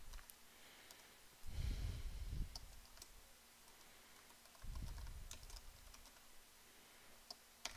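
Keys clack steadily on a computer keyboard as someone types code, with two louder bursts of keystrokes standing out against quiet background noise and a few sharp isolated clicks in between.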